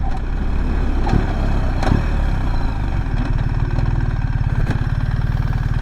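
A BMW GS 1300 Adventure motorcycle engine idles steadily nearby, a low continuous throb with faint mechanical clicks, holding on without stalling.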